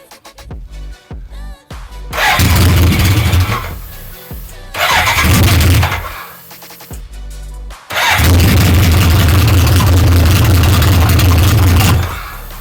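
A 1983 BMW K100 motorcycle engine being cranked and firing into loud running bursts, catching twice briefly, then running steadily for several seconds close up, with starter clicks between attempts.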